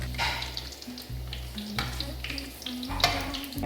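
Soya chunk cutlets fry in oil in a pan with a steady, close sizzle. Occasional clinks and scrapes come through as they are turned.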